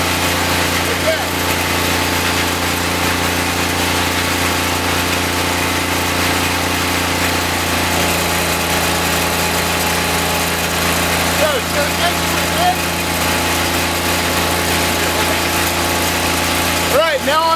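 A Darley AGE fire pump engine runs steadily throughout a pump test, giving a loud, continuous droning hum with a strong low tone that holds level the whole time, with only slight changes as the throttle is adjusted.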